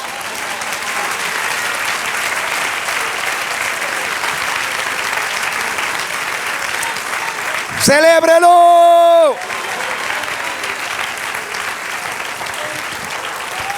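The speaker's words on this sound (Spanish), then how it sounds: "Den un aplauso fuerte al Señor" A church congregation claps loudly and steadily for the Lord during a sermon. The applause runs unbroken for about fourteen seconds while a voice speaks over it, and a brief sustained tone rises above the clapping partway through.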